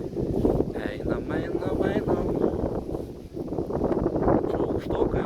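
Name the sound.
strong wind blowing into the microphone outdoors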